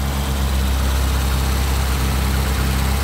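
A 1968 Morris Mini Cooper S idles just after starting with the choke partly in, a steady, loud, low engine drone with an even rumble and no break over a few seconds.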